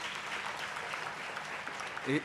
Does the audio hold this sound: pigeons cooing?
no